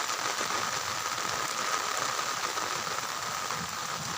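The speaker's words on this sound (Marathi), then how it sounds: "म्हणजे असं पाऊसच पडतोय जोरानं" Heavy rain pours down steadily outdoors, a dense, even hiss of falling drops holding at a constant moderate level from start to finish.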